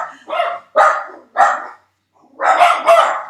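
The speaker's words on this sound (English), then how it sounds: "The neighbor is mowing and his dogs are barking, which now my dogs want to bark." Pet dogs at home bark in five sharp, loud, close barks, spaced unevenly with a short pause before the last two come quickly together.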